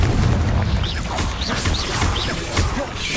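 A Confringo blasting spell explodes in Hogwarts Legacy combat, a steady rumbling blast with crackling bursts and whooshing spell sounds layered over the three seconds, moderately loud and continuous.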